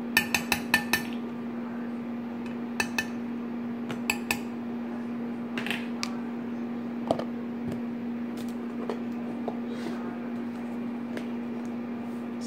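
A spoon clinks against dishes while radish kimchi is being made, with sharp metallic taps in quick clusters at first, then scattered single clinks over a steady low hum.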